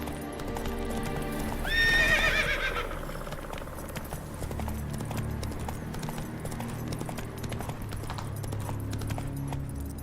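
A horse in The Witcher 3 moves off with a sharp whinny near the start, then steady rhythmic clip-clopping hoofbeats carry on at a trot or gallop under faint ambient background.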